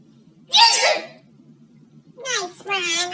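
Animated character's cartoon sneeze, a single loud burst near the start, followed after a pause by a short childlike voice speaking.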